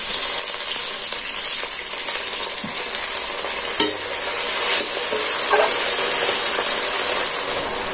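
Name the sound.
water added to frying pumpkin and shrimp in a pan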